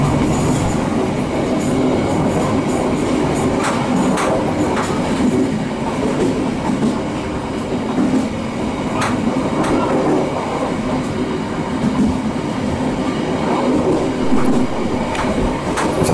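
KA Cikuray passenger train on the fast Cikampek–Bekasi line, heard from onboard at near its 100 km/h top speed: a steady loud rumble of wheels on rail with repeated clicks and faint squeals throughout.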